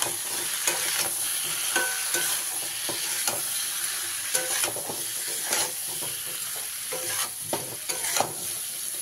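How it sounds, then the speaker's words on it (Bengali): Tomatoes with turmeric and green chilies frying in a pan while being stirred, a continuous sizzle broken by repeated scraping and clacking of the spatula, close and steady, with no voices. "সবজিটাকে এরকম একটু নেড়ে চেড়ে নিয়ে ঢাকা দিয়ে দেবো"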